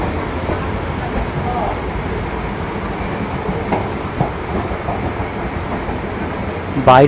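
Dense, continuous roar of heavy rain at Naihati railway station fills the clip, steady and loud, with a sharp clatter right at the end.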